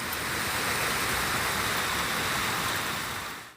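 Hailstorm pounding Paris, a dense, constant roar of hailstones striking surfaces, loud and unbroken before fading at the very end, with no voices.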